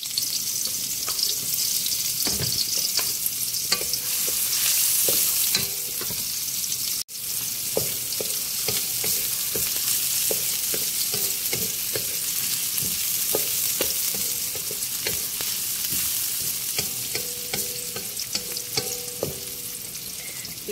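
White and red onions drop into hot oil and fry with a steady, loud sizzle, stirred now and then with scraping and clinking utensil knocks, continuous and close for the whole stretch.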